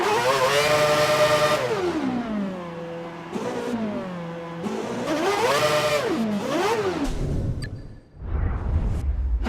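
Formula One car engine in the F1 2012 racing video game, screaming high revs that rise and fall through repeated gear shifts, loud and close, ending with a low rumble.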